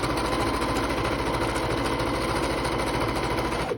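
A sewing machine runs steadily, stitching a fabric lining to the outer fabric about a quarter inch from the edge, with a loud, even motor whir and rapid needle rhythm that stops abruptly at the end.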